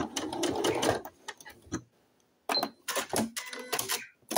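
A sewing machine backstitches to lock a seam on a fabric wipe, giving several short, close bursts of stitching separated by brief pauses.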